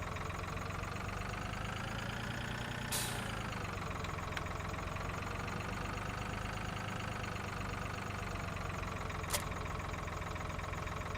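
A small tractor engine idles in the video game Farming Simulator 2013, a steady, continuous mid-to-low rumble that holds throughout with a couple of faint clicks and no talk.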